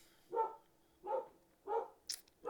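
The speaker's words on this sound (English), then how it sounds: "my dog's going off outside" Dog barking outside, four evenly spaced barks at moderate distance, with a brief sharp click between the last two and quiet background otherwise.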